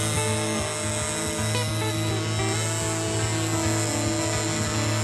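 A model airplane powered by a Sachs 4.2 engine and fitted with a smoke muffler flies overhead, its engine giving a continuous buzzing drone with slight shifts in pitch, loud and steady throughout.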